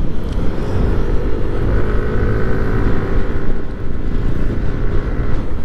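A motorcycle rides along a road in Dingalan, Aurora, its engine a loud, continuous rumble mixed with wind rush, steady with slight swells and no speech.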